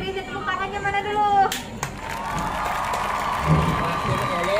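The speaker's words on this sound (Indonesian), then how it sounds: "tepuk tangannya mana dulu?" A crowd claps and cheers at a family gathering in Yogyakarta, the applause swelling steadily after a brief opening of voices and carrying on loud and continuous to the end.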